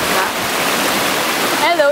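A river running past a creekside infinity pool in Bicol gives a steady, loud rushing wash from start to end. A voice speaks over the water near the close.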